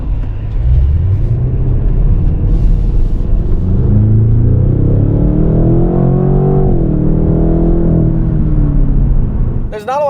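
A Cadillac CT6-V engine rumbles low and loud from inside the cabin while driving in tour mode, rising into a smooth revving sweep then settling, with a brief voice at the end.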